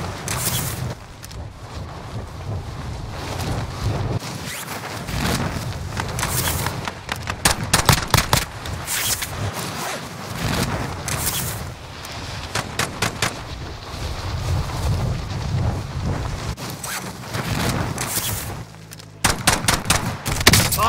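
Repeated bursts of gunfire in a battle royale video game crackle through a dense, continuous mix of game sound, with rapid volleys and clustered shots spread across the whole stretch.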